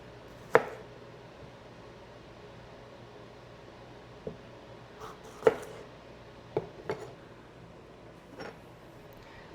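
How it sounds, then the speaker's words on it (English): Knife slicing fresh jalapenos on a cutting board during meal prep, a handful of sparse, sharp cuts spaced irregularly over a quiet room background. "gonna slice up some jalapenos"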